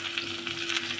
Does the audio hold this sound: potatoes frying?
yes